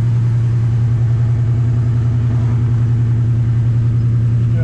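A 1965 Pontiac GTO hardtop's engine idles steadily, with a loud, close, even low rumble and no rev changes or voices.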